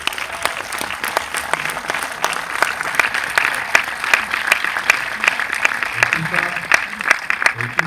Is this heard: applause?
yes